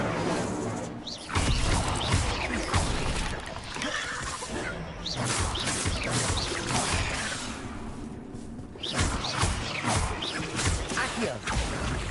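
Incendio fire spells cast in Hogwarts Legacy: roaring whooshes and crackling blasts of flame swell in bursts over twelve seconds, with short dips between casts and a constant busy game-combat wash.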